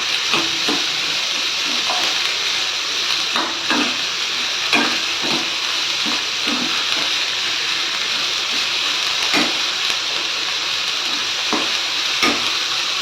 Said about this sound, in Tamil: ஆனியன் பார்த்தீங்கன்னா நல்லாவே வதங்கிடுச்சுங்க